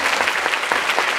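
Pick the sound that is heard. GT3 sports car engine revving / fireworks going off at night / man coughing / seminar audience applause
seminar audience applause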